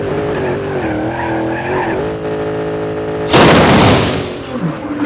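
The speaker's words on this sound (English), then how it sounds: "We literally ripped that entire front off." In the BeamNG.drive driving game, a car skids with a steady tonal tire and engine whine, then crashes in a sudden loud burst of crunching impact noise that trails off.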